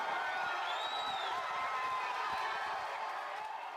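An indoor audience at a Libertarian Party event cheers and applauds in a dense, steady wash of noise, with a few whoops and whistles rising over the crowd.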